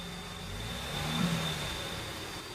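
A car engine rises into a brief rev under a DADC 500P power-assisted pull-style hand control throttle, a low steady hum that swells around the middle and eases off again, moderately close and alone.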